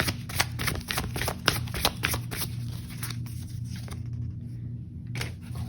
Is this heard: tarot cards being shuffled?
yes